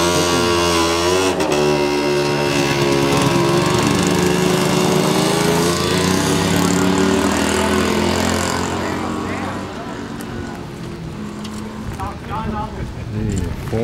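A vintage tractor engine runs steadily at a harvest with a binder, a loud, continuous low mechanical drone with a strong harmonic rumble that eases slightly toward the end.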